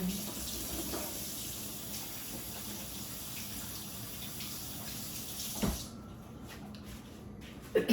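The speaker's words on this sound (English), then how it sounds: "And then I'm gonna wash my hands" A kitchen tap runs steadily as hands are washed, a close, continuous rush of water lasting several seconds before it shuts off and leaves a few faint knocks.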